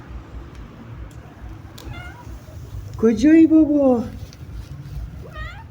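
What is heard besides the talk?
cat meowing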